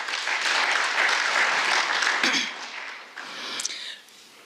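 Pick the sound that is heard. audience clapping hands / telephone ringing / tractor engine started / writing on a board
audience clapping hands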